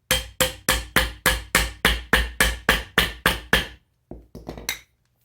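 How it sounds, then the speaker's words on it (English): A rubber mallet hammers a switch housing onto a legacy Casablanca ceiling fan. About a dozen evenly spaced, loud, close thuds are followed by a short pause and a few quicker, lighter taps. "then just hammer it out with a rubber mallet"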